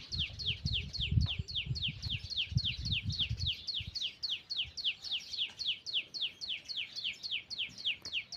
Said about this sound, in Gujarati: આનો અવાજ કેમ છે આ બે ચકલાઓનો